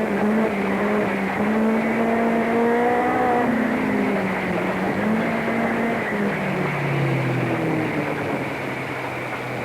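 A 1984 rally car on a forest stage at the Ashley Forest Rallysprint roars continuously, its engine note rising and falling as it brakes into a left-hander and accelerates away, loud and close throughout.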